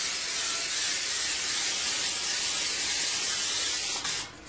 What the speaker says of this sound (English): get your ever trusted Pam. Don't want your shit to stick.